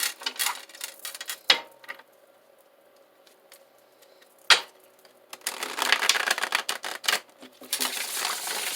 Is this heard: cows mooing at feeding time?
no